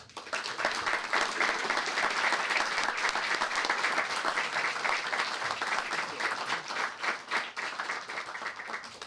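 An audience at Harvard Book Store claps warmly to welcome author James Carroll, a dense, steady round of applause holding for about nine seconds before gently tapering.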